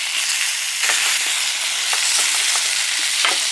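Bacon frying in a pan at a campsite, a steady loud hiss of sizzling fat with occasional crackles and faint scraping, close by and with no voices.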